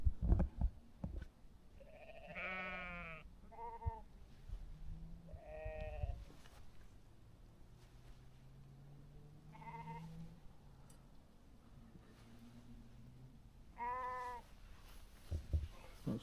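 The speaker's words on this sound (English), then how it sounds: "got some sheep" Sheep on a hillside bleating at a wild camp, several short wavering calls spaced over quiet open air, some near and some farther off, with faint wind in the background.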